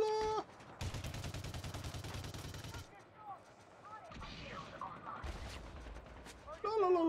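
Bursts of rapid automatic gunfire crackle in a first-person shooter game, two long sustained volleys separated by quieter stretches of ambient battle noise and effects.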